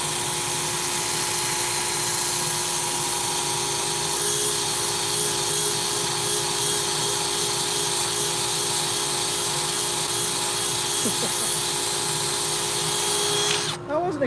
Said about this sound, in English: The initial sanding always takes the longest.